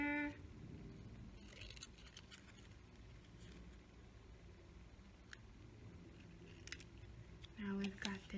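Scissors snipping around a square shape cut from paper for a pumpkin craft, a few soft crisp cuts spread across the stretch at close range, with a child-friendly lesson voice speaking over parts of it.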